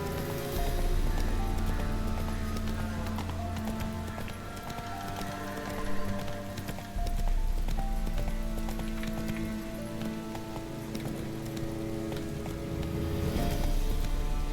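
Horse hooves clip-clop in a quick galloping rhythm across open ground in The Witcher 3, steady and fairly close, with a brief dip midway before the pounding resumes.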